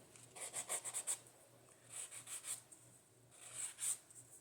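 Soft, close rubbing of sandpaper on a wooden circle game piece in short rhythmic bursts of strokes, separated by brief pauses. Quiet overall.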